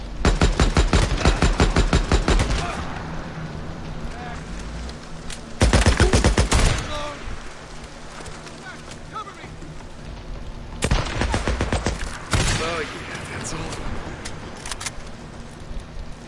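Gunfire in the Days Gone video game comes as several bursts of rapid shots, loud and close, separated by quieter stretches of vehicle engine hum and scattered softer noises.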